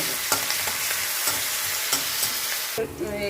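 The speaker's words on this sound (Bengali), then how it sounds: "তেলটা গরম হয়ে গেছে দিয়ে দিচ্ছি শুকনো লঙ্কা ফোড়ন দিয়ে দিচ্ছি কাঁচা লঙ্কা আর রসুন বাটা" Dried red chilli, green chilli and garlic paste hit hot oil for a mustard greens dish, sending up a loud, crackling sizzle with stirring scrapes. The sizzle settles slightly near the end.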